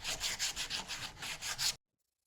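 Sandpaper rubbing along the grain of a wooden crescent pen holder's edges, a steady run of about eight close, scratchy back-and-forth strokes that stop abruptly, with no voices.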